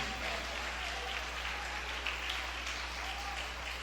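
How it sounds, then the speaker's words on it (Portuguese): A church congregation applauds during a sermon, a steady mid-level crackle of many hands clapping over a low constant hum, without speech. "Aplaude a Jesus."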